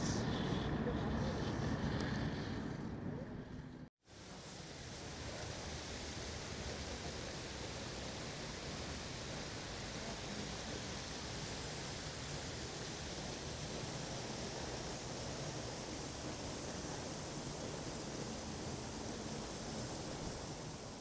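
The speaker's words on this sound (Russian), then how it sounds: "Еще один побольше красивый водопад." A large waterfall at the Heydar Aliyev Cultural Center in Baku, heard as a steady, loud broadband rush of falling water that continues throughout, with a brief gap early on.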